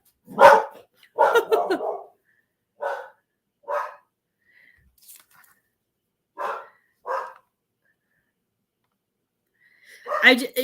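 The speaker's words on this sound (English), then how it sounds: "He's probably going to bark." A large dog barks in short separate bursts, some single and some doubled, spaced by silence, close and moderately loud with no talk over it.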